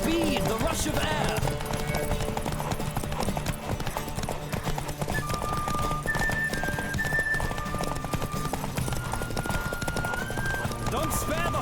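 A horse gallops with rapid rhythmic hoofbeats during a ride in the video game The Witcher III: Wild Hunt, close and loud, with occasional whinnies, game music tones and voices talking over it.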